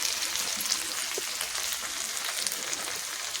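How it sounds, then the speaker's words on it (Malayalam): Food deep-frying in hot oil after being turned on all sides, a steady dense sizzle and crackle continuing evenly throughout with no voices. "എല്ലാ വശവും നമ്മൾ മറിച്ചിട്ട് ഇനി നമുക്ക് കുറച്ചും കൂടി ഒന്ന് ഫ്രൈ ചെയ്താൽ മതി"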